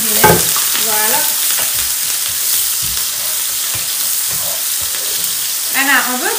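Onion sautéing in a pan, with a steady crackling sizzle and stirring scrapes running throughout, while brief bursts of talk cut in near the start and again at the end.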